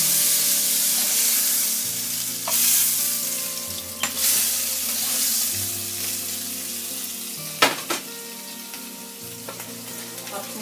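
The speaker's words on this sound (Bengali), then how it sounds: "জাস্ট মাছের গন্ধটা চলে যাওয়ার জন্য তেলে একটু নেড়ে নিলে" Oil sizzles steadily as hilsa fish fries in a pan, broken by a few sharp scrapes and clatters of stirring, over a low background hum.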